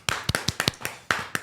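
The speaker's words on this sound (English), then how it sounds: "So very, very slow clap for the Strong 16." An audience gives a deliberately slow clap: about eight sharp, fairly close claps spaced unevenly over a second and a half, with brief gaps between them.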